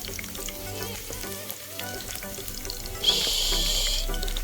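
Onions for beef stew sizzle steadily in hot oil, a crackling hiss that swells louder near the end, with faint kitchen clatter underneath.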